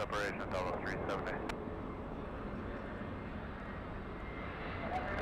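A Delta jet takes off at LAX, its engines giving a broad, steady roar that holds throughout, with a few brief clicks and rustles near the start. A radio voice talks over it.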